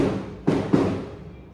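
Firecrackers go off outside a home kitchen, two dull booming thumps about a quarter second apart, heard at a distance over a low background rumble that fades afterward.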